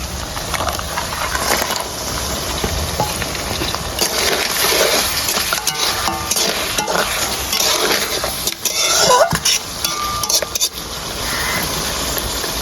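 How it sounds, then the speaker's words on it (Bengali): Crabs go into a pan of fried onions for a Bengali-style crab dish with water taro, bringing steady, busy clattering and scraping of cookware with sizzling underneath, fairly loud and continuous, with no talking. "পেঁয়াজ আর এখন একটু ভেজে নিয়েছি এখন দিয়ে দিব কাঁকড়া"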